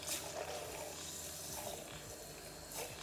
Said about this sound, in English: So you want to dunk it a couple of times and then just spin it above the top of the water.